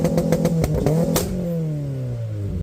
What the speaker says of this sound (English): So we have a very, very noisy exhaust. Also has launch control.